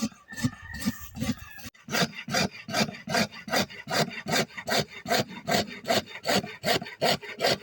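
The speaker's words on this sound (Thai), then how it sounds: "วิธีการเลื่อยของเพื่อนโอ้ ถือว่าสีมือนะ" Hand saw rasping through wood in steady, regular back-and-forth strokes, close and fairly loud, after a brief rougher start.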